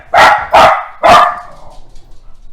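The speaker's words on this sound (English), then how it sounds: "I've got a dog." Dog barking close to the microphone indoors, three loud sharp barks in quick succession followed by faint snuffling, with no talk over them.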